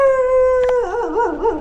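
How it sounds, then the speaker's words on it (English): A dog sitting by a motorcycle near Amboli, Maharashtra lets out a loud, close howl, a sustained tone that breaks into a wavering, yodelling rise and fall. "There is a really scary dog sitting by my bike though"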